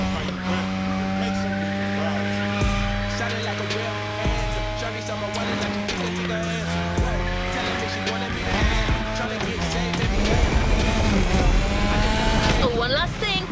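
A car drifts in The Crew Motorfest racing game, its engine droning and shifting pitch under sustained tire squeal, with revs rising and falling through the slide and a louder surge near the end.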